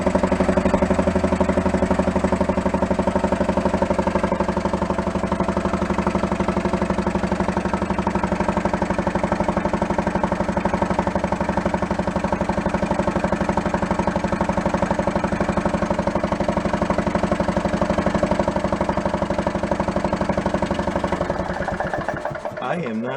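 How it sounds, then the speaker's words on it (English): A golf cart engine held at full throttle, running steady and loud with a continuous mechanical drone that holds level for about twenty seconds, then cuts out and fades at the end. "I'm gonna hold it full throttle, and I'll cause it to give more oil"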